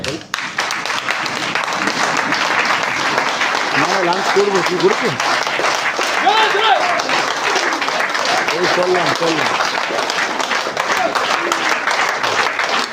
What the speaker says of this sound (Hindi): इन्हें एक स्टैंडिंग ओवेशन और ताली दी जाए